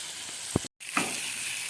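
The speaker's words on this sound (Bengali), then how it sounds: "এবার আমি এর মধ্যে জলটা দিয়ে দেবো।" Water goes into a pan of fried masala for an egg poach gravy, where the spices have cooked until oil separates. A steady hiss of sizzling carries on throughout, with a brief splash as the liquid hits.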